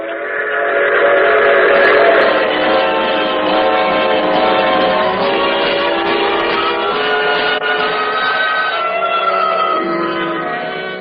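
A train's whistle blows loud and sustained for several seconds over the steady rumble of the moving cars, with no voices.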